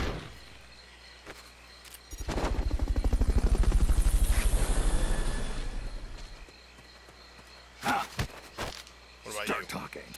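A helicopter in the video game Metal Gear Solid: Peace Walker approaches and passes with loud, rhythmic rotor chop that swells and then fades over several seconds, followed by short game sound effects.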